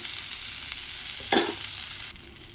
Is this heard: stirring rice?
yes